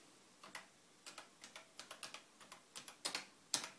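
Quiet, close keystrokes on a ZX Spectrum +3e computer keyboard, a dozen or so separate taps in an uneven typing rhythm with no voices.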